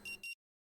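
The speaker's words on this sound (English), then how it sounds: "Is it just going to beep, beep, beep, beep?" Two short electronic beeps from the time-loop RPG Rue Valley, quick and clipped, sounding alone and followed by silence.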